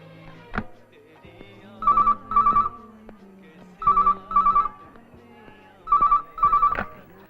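A telephone rings in three pairs of bright electronic trills, evenly spaced, with faint background sounds between them.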